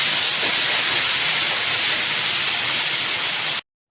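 Onions fried until reddish, with green chili and garlic paste added, for a yardlong bean bharta. They sizzle in a steady, loud, hissing crackle that runs unbroken, then cuts off abruptly near the end.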